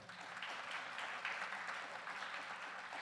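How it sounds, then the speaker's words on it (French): A concert audience at a big band jazz performance applauds a trombonist, a dense, even wash of clapping that holds steady for a few seconds with no voices. "J'aimerais que vous applaudissiez bien fort, M. Simon Gaudet."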